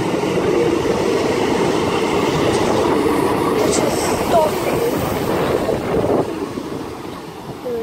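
A Class 150 train heading to Swansea rumbles past at Pencoed, a loud continuous roar of wheels and diesel under gusting wind noise that eases slightly as it departs.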